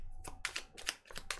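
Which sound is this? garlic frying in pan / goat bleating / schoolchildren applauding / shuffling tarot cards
shuffling tarot cards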